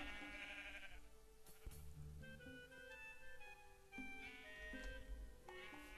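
Sheep bleat in the Minecraft video game over a continuous layer of game music and background sounds, with several bleats spread across the scene.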